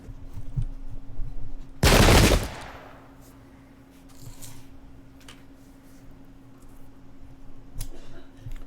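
A single sharp burst of musket volley fire in the video game Pike and Shot, loud and brief, followed by faint scattered shots and low battle ambience.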